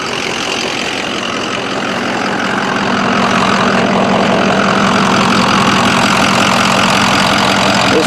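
A 2004 Ford F-350 with a 6.0L engine that runs rough and leaks coolant drones steadily at close range, a loud continuous rumble with no talk over it.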